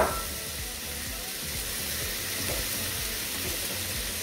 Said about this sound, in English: I'm just gonna add the onions now.